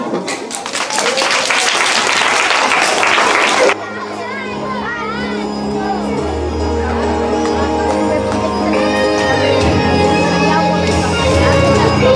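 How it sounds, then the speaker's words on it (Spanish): Applause from an audience at a school Christmas performance, a dense burst of clapping lasting a few seconds before it cuts off, followed by second-grade children beginning to sing a carol. "Recibimos un fuerte aplauso"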